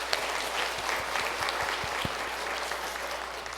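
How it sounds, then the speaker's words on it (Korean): A congregation at a Korean church's New Year special dawn prayer service claps together in warm, sustained applause, a steady dense patter with a few soft low thumps mixed in. "영광의 박수를 올려드리겠습니다."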